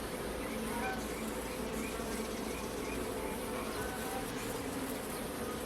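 Honey bees buzz steadily and densely throughout a hive inspection while nucleus colonies are made, a continuous close swarm drone with no talking over it.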